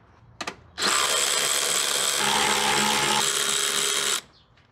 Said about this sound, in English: we'll use our new ratchet